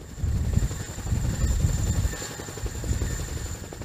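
A CH-47 Chinook tandem-rotor helicopter of the US Army drones steadily during a careful descent toward landing, a dense low rotor rumble with a faint high whine above it, continuous and fairly close, no voices.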